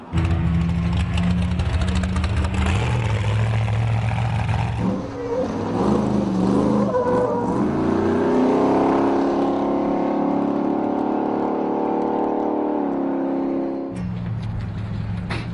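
A Ford Raptor pickup races through the Baja desert, its engine revving loudly with a rising, droning pitch as it passes close, then the roar drops off sharply near the end.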